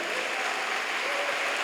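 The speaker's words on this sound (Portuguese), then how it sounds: "Dê um brado de vitória, uma salva de palmas" A church congregation at a Baptist communion service bursts into dense, continuous clapping, loud and close, filling the whole short moment without a break.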